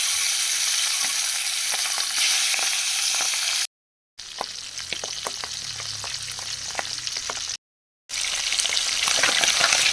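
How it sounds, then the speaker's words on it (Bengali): Pabda fish frying in hot oil in a kadai, a loud continuous close sizzle with crackling pops, broken by two short silent gaps. "কড়াইতে তেল গরম হয়ে গেছে। এখন আমি মাছগুলো ভেজে নেব।"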